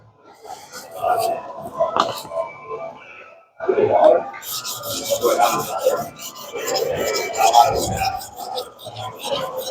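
A Hatsukokuro Kurogane bunka kitchen knife being sharpened on a thin 320-grit whetstone, repeated close rasping strokes in bursts with a short pause, while someone talks throughout.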